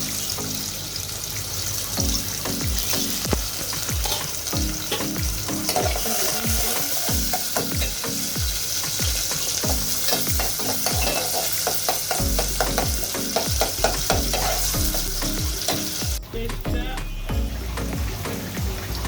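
Onion sizzles in hot oil in a pot on a stove, a loud continuous frying hiss with crackles and repeated metallic stirring taps throughout, briefly thinning near the end.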